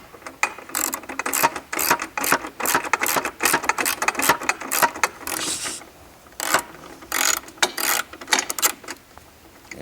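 A ratchet wrench works a bolt free during the assembly of a DynaRoller, giving rapid pawl clicking in repeated bursts with brief pauses between strokes, close and clear.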